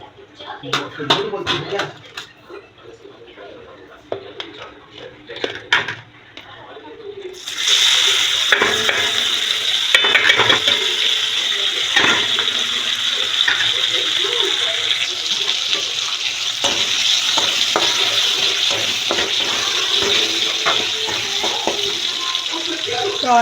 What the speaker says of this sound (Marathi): कांदा टमाटो फ्राय